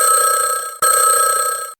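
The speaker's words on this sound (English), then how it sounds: "The phone jangled" A telephone rings loudly with a bright, jangling electronic tone in two closely spaced bursts separated by a brief gap, close and alone.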